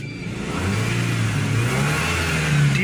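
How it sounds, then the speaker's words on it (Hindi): A car engine revving steadily as it accelerates during a mass air flow sensor check, a loud, continuous close-up drone that rises in pitch with no talk over it. "गाड़ी को ना अभी मैं एक्सेलरेट करता हूँ"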